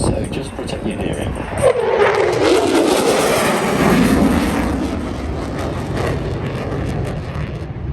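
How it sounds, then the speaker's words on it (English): F-35 fighter jet at an airshow, a loud sustained jet roar with a pitch that sweeps downward as it passes, heavy and close throughout, with some crowd noise underneath. "you get to see an F-35 that gets touched down"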